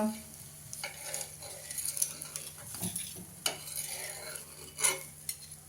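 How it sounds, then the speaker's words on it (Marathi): A sorghum-fenugreek chila cooking on a hot griddle over medium flame, a soft steady sizzle broken by scattered spatula scrapes and metal clinks, close and fairly quiet. "तवा तापल्यानंतर आता मीडियम फ्लेमवरती आपल्याला चिला शेकून घ्यायचा आहे"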